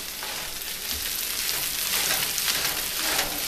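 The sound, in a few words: fried rice with mushrooms, lettuce and eggs sizzling while stirred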